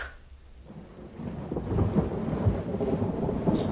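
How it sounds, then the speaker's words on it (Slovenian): Thunderstorm sound effect in a Slovenian audio story of Jules Verne's adventure novel: a low, rolling rumble of thunder builds over steady rain, swelling louder across the few seconds with no voices. "Nevihta je vse močnejša."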